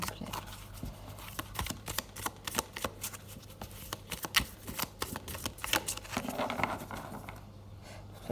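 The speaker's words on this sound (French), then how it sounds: "Alors on va reprendre quelques cartes." Cards being shuffled for a card reading, a close run of quick papery riffles and flicks that continues for several seconds and then eases off.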